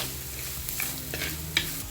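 Onion, green chilli, ginger and curry leaves fry in a pan with a soft sizzle under close stirring and scraping, plus a sharp clink near the end and no voices.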